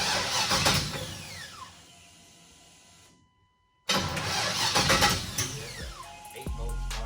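A starter cranks the 5.3L V8 in a Chevy S10 truck that has a low-voltage fault, grinding loudly and steadily, breaking off into a short silence and then resuming just as strong.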